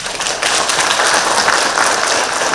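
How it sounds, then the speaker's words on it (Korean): Dense, loud applause from an audience at a policy seminar on presidential campaign pledges, continuous crowd clapping for a few seconds without talk. "박수 한번 주세요."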